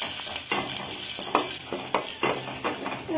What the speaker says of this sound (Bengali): রসুন আর লঙ্কাটা লাল করে ভাজা হয়ে গেছে